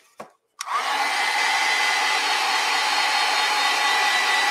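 A hair dryer drying acrylic paint switches on after a short click and runs with a loud, steady whooshing hum.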